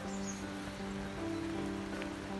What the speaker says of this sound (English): and you're now in the rain